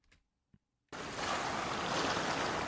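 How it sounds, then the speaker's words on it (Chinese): A wind and waves sound effect sets in abruptly after a near-silent opening with a couple of small knocks, then holds as a loud, steady roaring wash of surf and wind. "大自然的风浪的声音"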